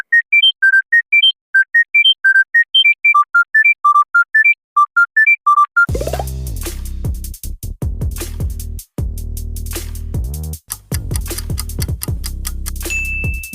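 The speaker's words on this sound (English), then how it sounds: "Panasonic has this ringtone" A Panasonic phone ringtone opens with a bright, plinking melodic tone sequence of rising and falling beeps, then turns into a loud, dense electronic passage with heavy low pulses.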